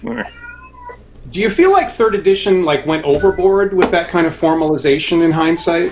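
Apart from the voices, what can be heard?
cat howling in the background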